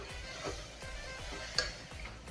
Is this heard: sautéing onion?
yes